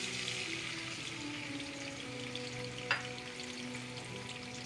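Chicken frying in a karahi for an Afghani chicken karahi, a faint, even sizzle running the whole time with a brief scrape or clink partway through, no talking.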